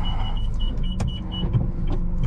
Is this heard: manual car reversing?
yes